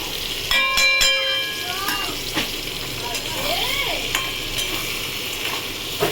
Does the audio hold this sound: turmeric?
yes